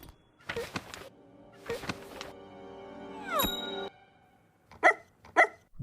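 Ruby and Yang's pet dog from the animated series RWBY barks in two pairs of sharp yips, with a ringing metallic ding between them; there is no talking.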